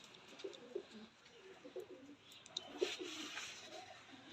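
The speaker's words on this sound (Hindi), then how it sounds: "72 नंबर कबूतर हैं ये" Pigeons of a pure breeding line cooing softly in a loft, several low throaty coos repeating through the stretch, faint and somewhat distant over quiet background hiss.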